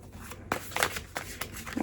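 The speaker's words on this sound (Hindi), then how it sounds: "Okay, so we'll shuffle the cards again." Tarot cards being shuffled by hand, heard as a few soft, brief riffling bursts close by and fairly quiet.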